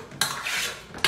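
A metal utensil scrapes inside an aluminium cooking pan in a home kitchen, with two loud, harsh scraping strokes close by and a brief clatter at the end.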